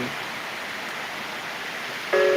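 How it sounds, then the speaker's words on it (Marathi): Heavy, torrential rain pours down as a steady, dense wash of hiss with no breaks, and a brief tone appears near the end. "सगळीकडे आता पाऊसच पाऊस पडायला लागलेला आहे तुफान पाऊस"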